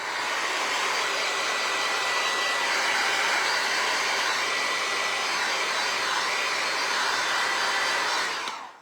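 A hair dryer blows continuously and loudly on resin ornaments for nearly nine seconds, a steady broadband whoosh that stops abruptly at the end.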